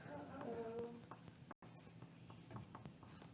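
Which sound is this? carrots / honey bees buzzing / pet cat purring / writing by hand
writing by hand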